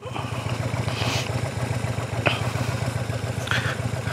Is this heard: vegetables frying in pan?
no